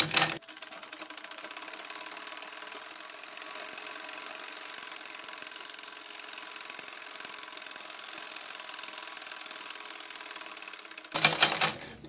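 Sewing machine sewing a straight seam along a folded one-inch petticoat hem, whirring in a fast continuous mechanical buzz after a brief start, then slowing to a few clunks as it stops.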